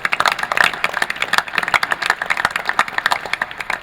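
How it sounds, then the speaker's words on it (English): A modest crowd at a city council committee meeting held in an arena claps, with a handful of distinct, uneven claps rather than a full roar, sustained for several seconds. "let's give yourselves a round of applause for being out here tonight"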